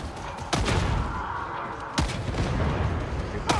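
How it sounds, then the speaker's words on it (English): Gunfire in the video game Darktide: three sharp, loud shots spaced over a few seconds, each with a booming tail, over constant combat din. "Shooting here to clear the way."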